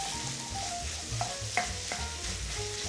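Hot sausage sizzling in a pan, a constant crackle broken by a few sharp scrapes of stirring, with no one speaking.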